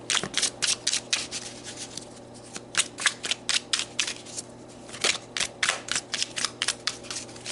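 Tarot cards are shuffled close up in quick bursts of crisp riffling slaps and flutters, with short pauses between the bursts and no talking.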